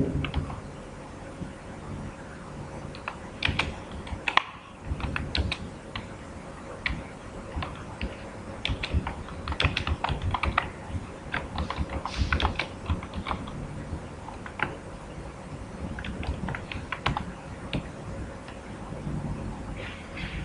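Steady, rapid clicking of computer keyboard keys as Java database code is typed, with soft, close keystrokes continuing throughout and no talking.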